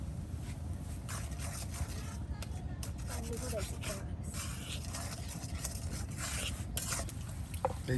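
Chili and turmeric powder are stir-fried together in a pan for a village-style kuche fish curry, giving a steady low sizzle with scraping stirring strokes while a person talks over it.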